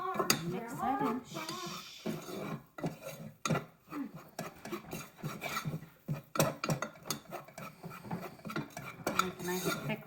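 A spoon stirs chili powder into homemade enchilada sauce, scraping and clinking against the pot in an uneven rhythm while someone talks at intervals.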